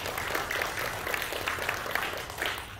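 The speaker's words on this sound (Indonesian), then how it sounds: "Tepuk tangan untuk Tuhan Yesus." Soft, continuous applause from a congregation during a Sunday church service. The dense patter of many hands is fairly faint and lasts under three seconds.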